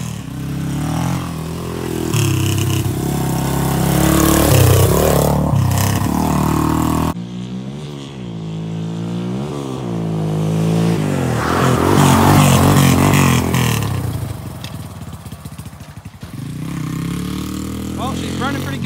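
Yamaha Warrior 350 ATV engine running loud and steady, with rising and falling revs as it is ridden, the pitch sweeping up and down repeatedly across the whole stretch.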